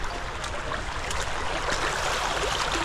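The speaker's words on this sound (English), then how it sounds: "The water is flowing." Water flows steadily through an outdoor stream, a broad, continuous rushing and trickling wash heard fairly close and alone, without voices.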